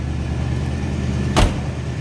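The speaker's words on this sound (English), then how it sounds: "Nice little rumble coming out of that. 303 V8." Exhaust rumble from the 303 Rocket V8 of a 1951 Oldsmobile 98 Holiday Coupe, a steady low idle heard up close at the rear, briefly punctuated by a single solid door thump.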